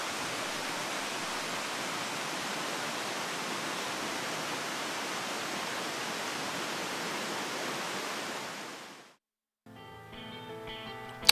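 A waterfall spilling into small rapids in Tasmania gives a broad, steady rushing roar that holds loud and even for about nine seconds, then cuts off abruptly, followed by a few faint scattered tones near the end.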